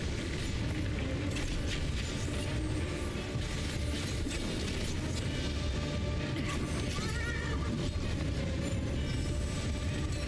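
A horse whinnies amid a busy Final Fantasy XIV Dawntrail game soundscape, with dense mechanical clanking, ratcheting and scattered hoof clops layered under steady loud music and effects.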